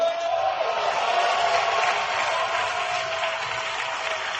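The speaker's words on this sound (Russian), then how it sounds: "Дайте им аплодисменты." Sustained audience applause at a church gathering, a dense, even wash of many hands clapping at steady loudness from start to finish, with no speech over it.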